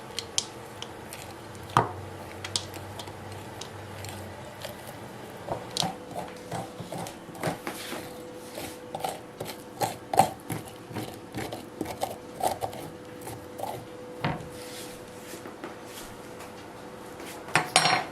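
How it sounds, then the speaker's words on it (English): A metal spoon scraping and knocking inside a pumpkin, irregular clinks and scrapes repeating steadily and fairly close with a low background hum. "So just scrape it out with a spoon."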